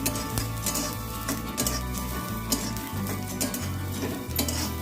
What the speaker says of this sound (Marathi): आता कढईमध्ये जे काय तेल शिल्लक राहिलं होतं त्या तेलामध्ये आता आलं, लसूण, मिरची मस्तपैकी भाजून घ्यायचं आहे